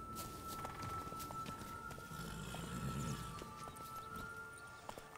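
Rhythmic clip-clop of horse hooves trotting over a steady hum, moderately close, with faint game-like background tones and no talking.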